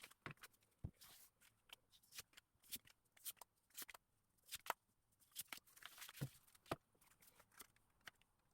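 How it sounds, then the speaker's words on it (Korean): Tarot cards are shuffled and drawn by hand in a quiet room, a soft, close series of riffling flicks and papery taps in an irregular rhythm, with no talking. "상대방 카드 제가 지금부터 뽑아보도록 하겠습니다"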